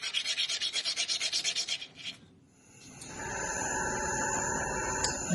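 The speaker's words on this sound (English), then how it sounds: "And back to sanding." Steady rhythmic rasping strokes of sanding silver, close, then a short pause and a continuous whirring hum with a faint high whine.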